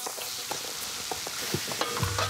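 Ginger, garlic, red onion, lemongrass, tomato and capsicum sizzle steadily in a hot pan, with a few stirring scrapes and clatters along the way.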